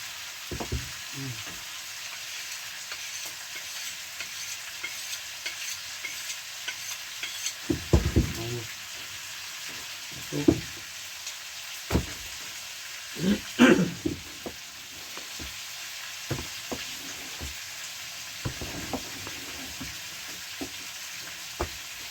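Pork belly sizzles steadily in a pan, a constant crackling hiss broken by occasional utensil scrapes and clinks, close up with no talking.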